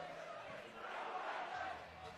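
A stadium crowd at a London Broncos rugby league playoff semi-final applauds and cheers a player on his 200th career appearance, a broad sustained roar that stays fairly steady throughout.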